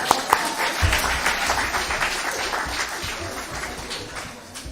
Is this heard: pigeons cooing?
no